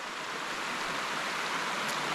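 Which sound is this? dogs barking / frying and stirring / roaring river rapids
roaring river rapids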